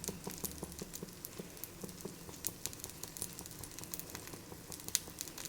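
Oil sizzles under purnam burelu, sweet stuffed fritters shallow-fried in a pan rather than deep-fried, giving a faint, steady crackle with scattered soft pops.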